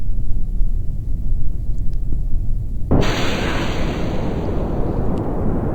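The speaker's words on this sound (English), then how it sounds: "Rockets engaged." Rocket engines igniting in the Kerbal Space Program video game, a quiet low rumble that abruptly bursts into a loud, sustained roaring thrust that holds steady to the end.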